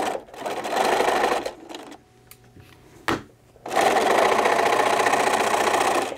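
A sewing machine stitches fabric pieces of a drawstring bag in steady, loud bursts, pausing for a few seconds in the middle before running again continuously, with no talking.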